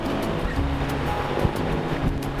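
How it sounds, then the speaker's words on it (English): Choppy, confused sea water slaps against a sailboat on a rough passage, giving a dense, steady wash of churning water with wind noise and occasional thuds. There is no talking. "The water is just so choppy and so confused."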